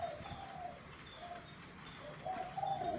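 Spotted dove (chim cu) cooing at night, a few soft repeated hollow coo phrases at moderate distance over a faint steady background hiss, with no voices.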